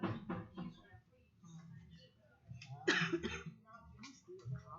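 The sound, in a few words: coughing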